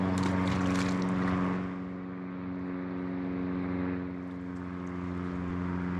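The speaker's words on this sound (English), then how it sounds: "There's a lot of airplanes out flying." Propeller airplane droning overhead near Soldotna Airport by the Kenai River on a sunny day, a steady low engine hum that swells louder at first and then eases off, continuous and moderately distant.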